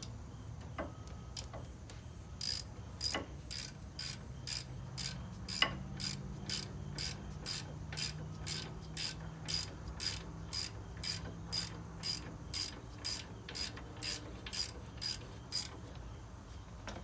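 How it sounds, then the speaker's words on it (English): A ratchet wrench tightening large 18mm bolts on a 2003 Chevy Suburban rear brake assembly, a long run of evenly spaced sharp clicks, close and steady, with faint mechanical clunks underneath. "I'm putting those large 18mm bolts back in to bolt this back up."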